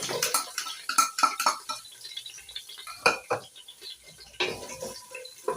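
Onions going into a pot of cooked beans, with a quick run of close metallic clanks and scrapes, then scattered lighter knocks and a final burst of clatter.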